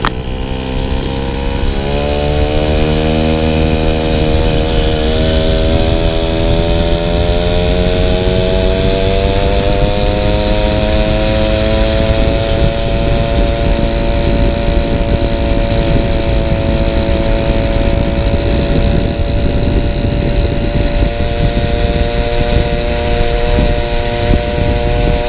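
Peugeot 103 moped engine screaming at top speed, a loud, steady high-revving buzz that climbs in pitch over the first few seconds then holds near flat-out for the rest, close and continuous with no talk.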